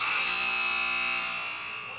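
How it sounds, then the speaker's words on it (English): A loud, harsh electric buzzer blares continuously to end a timeout at a round-robin game, then cuts off and fades into the background of a large arena. "Buzzer sounds."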